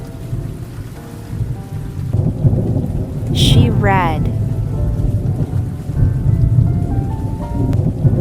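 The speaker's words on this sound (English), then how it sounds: "The rain comes again tonight." Steady rain falls on a quiet house at night, with a low rumble of thunder building in the middle, while a woman reads aloud over the storm throughout.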